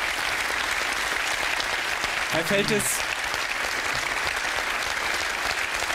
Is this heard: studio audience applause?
yes